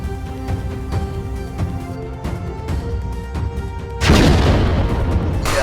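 Heavy booms and bursts of gunfire roll through a noisy battle scene, ending in a loud, sustained blast of rumbling noise.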